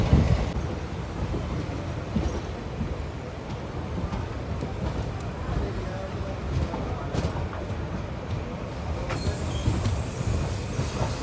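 The Mussoorie Express passenger train runs on rails from Dehradun toward Delhi, a loud continuous rumble with rhythmic wheel clatter and occasional squeals, heard from on board for the whole stretch.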